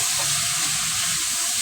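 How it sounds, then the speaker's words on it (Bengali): Ridge gourd tipped into a hot frying pan and stirred, a steady close sizzle and hiss with faint scraping, short and continuous, no voices. "তো আমি এখন ঝিঙাটা দিয়ে দিব, দিয়ে আমি একটু নেড়ে চেড়ে নিব।"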